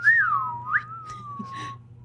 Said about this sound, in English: If I whistled in this microphone, would it come through?